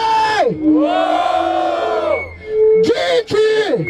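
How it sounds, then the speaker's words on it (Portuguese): A crowd at a Brazilian freestyle rap battle in Barueri, São Paulo roars and yells in a loud, sustained burst, with shouting voices rising over the noise. "Barulho para as rimas do Cante"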